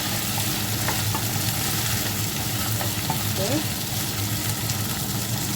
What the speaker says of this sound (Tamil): வாழைக்காய் சேர்த்து வதக்குவோம்.